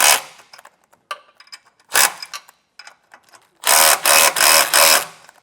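Ratchet wrench with a 14mm socket tightening U-bolt nuts while an air bag suspension kit goes onto a 2025 GMC, heard as scattered close clicks and then four loud, quick bursts of rapid ratcheting near the end.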